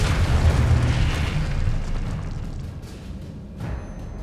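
A Confringo blasting spell explodes in the Hogwarts Legacy video game, a loud, deep boom that rolls on as a rumbling, fading blast, with a smaller burst near the end.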